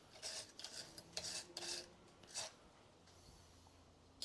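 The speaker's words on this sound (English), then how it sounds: "now these shims, I'll clean both sides of them," Rear brake pad shims from a 2015 Toyota RAV4 2.2 diesel being cleaned and dusted off, several short faint scraping and brushing strokes in quick bursts, close by, with no talk.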